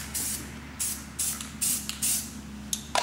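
An aerosol spray paint can sprays black paint onto a stencil in short bursts, about five or six hissing blasts of varying length, close and alone, with no talk.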